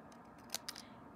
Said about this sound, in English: I'm going to cut them out anyway